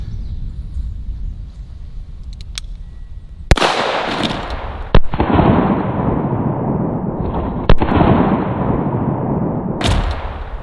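A CCI .44 Magnum No. 4 shotshell is fired outdoors, with several loud, sharp reports spaced a couple of seconds apart and a rumbling wash of noise between them.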